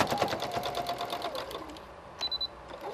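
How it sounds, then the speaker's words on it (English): A sewing machine stitching along a tie runs in a quick, steady rhythm of close mechanical clicks for about two seconds, then pauses and gives a few short bursts. "And you're just gonna sew all the way to the corner"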